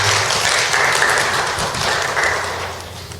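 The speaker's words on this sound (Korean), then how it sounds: "우리 나오실 때 큰 박수로 좀 환영했으면 좋겠습니다" At a Korean church gathering, an audience claps steadily and fairly loudly to welcome a speaker coming forward, a continuous wash of hands that eases off slightly toward the end.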